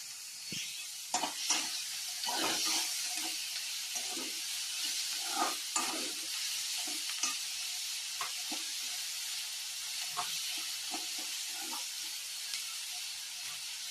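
Soft continuous sizzle of salted onions frying, with repeated spatula scrapes and stirs against the pan at an irregular pace.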